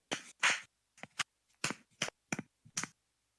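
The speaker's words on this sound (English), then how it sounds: "Was that you clapping or what? That was me clapping." Hand clapping, a series of about eight sharp, separate claps in uneven rhythm, close and fairly faint, with silence between them.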